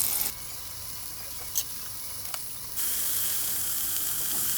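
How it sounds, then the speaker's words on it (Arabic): Meat searing in a very hot pot with two spoons of oil, a steady broadband sizzle and hiss that jumps louder partway through and then holds, with no talking. "نزلت في حله سخنه جدا فيها معلقتين زيت باللحمه"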